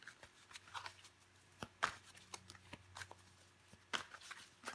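Tarot cards handled and laid down one over another, producing soft, close slaps and rustles spaced irregularly, with a few sharper snaps standing out against a quiet room.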